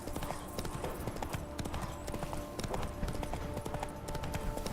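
Roach the horse clip-clopping in The Witcher 3, a steady rapid rhythm of hoofbeats, close and clear, with a brief faint whinny.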